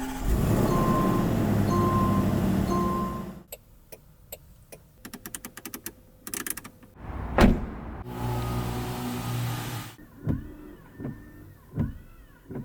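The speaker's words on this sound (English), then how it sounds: "I took my beloved Tascam recorder here and recorded all these different sounds of my car." A car's idling hum with repeating chime tones gives way to a series of clicks, switch taps, a whirring motor and a door thunk inside the vehicle.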